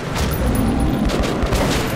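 Gunfire in Metro 2033 Redux cracks out in rapid, punchy bursts over a deep rumbling low end, loud and close throughout.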